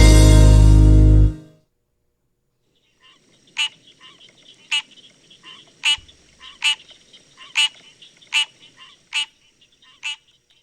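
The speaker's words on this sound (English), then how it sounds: "That's a common tree frog." A common tree frog calls in a regular series of about eight sharp, raspy croaks spaced roughly half a second to a second apart, clear and close against a quiet background, after a brief loud burst at the start.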